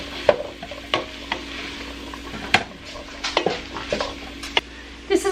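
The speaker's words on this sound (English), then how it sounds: "Gonna add about 3 carrots" Chopped carrots going into a pot of hamburger vegetable soup, heard as scattered clatters and knocks of pieces and utensils against the pot, with occasional sharper clinks, close and fairly loud, no talking.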